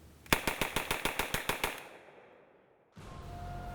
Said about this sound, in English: gun could fire 450 rounds per minute with a higher degree of accuracy than the Thompson